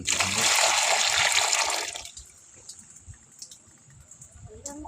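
Water pours and splashes steadily into a container holding golden-coloured rui fish fry, loud for about two seconds before cutting off to faint drips and a quiet background.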